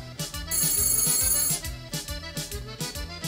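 An electronic telephone ringtone chirps in a loud, repeating pattern of bright tones, alone with no voices over it.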